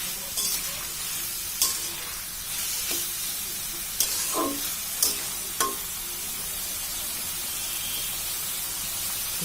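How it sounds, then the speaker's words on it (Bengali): Ol kochu (elephant foot yam) stalks seasoned with salt and turmeric sizzle steadily in a pan, with a soft continuous frying hiss and occasional sharp clicks of stirring nearby. "এটা আমি 4-5 মিনিট ধরে ভাজি করে নেব।"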